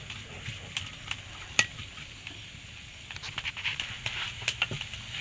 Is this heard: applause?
no